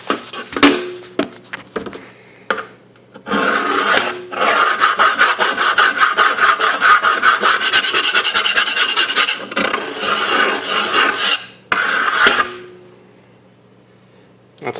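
A steak knife scrapes hard across oak laminate flooring in a long rapid back-and-forth rasping burst, close and loud, bracketed by a few shorter scratches and taps, with no talking.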